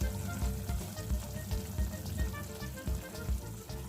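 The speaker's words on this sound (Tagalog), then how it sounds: "Ayan guys, kumukulo na po siya." A pot of paksiw fish stew with Bilong-Bilong fish boils at close range, a steady bubbling, crackling simmer with no pauses and no voices.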